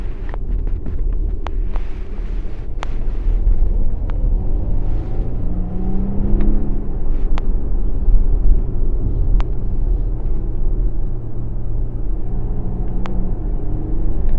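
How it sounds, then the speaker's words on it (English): A steady low rumble from the 2-liter four-cylinder engine of a Volvo XC90 under way, heard from inside the cabin, with road noise and occasional soft clicks over it. "The engine is a little bit noisy,"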